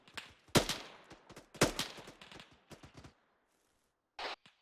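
Gunfire in the Arma 3 video game during an infantry engagement: several loud close bursts and single shots in an irregular sequence, a brief lull, then another short burst.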